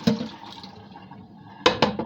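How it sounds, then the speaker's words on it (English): Water from a bok choy stir-fry prep is dumped into a kitchen strainer, a running liquid pour that trails off, followed by two sharp clanks near the end. "Then dump the water."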